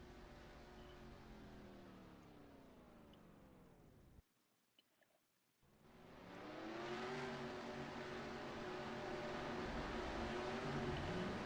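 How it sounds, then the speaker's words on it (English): A race car in a sim racing game pulls away from pit road, engine rising in a steady accelerating whine, briefly cutting out before surging back loud and sustained. "Off and away he goes, and it looks like he's going to be the first driver off of pit road."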